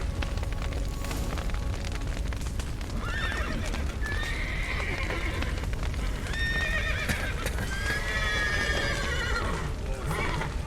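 Horses in The Witcher 3: Wild Hunt neigh and whinny repeatedly as hooves clop steadily, set against a constant low rumble of game ambience, with faint voices mixed in.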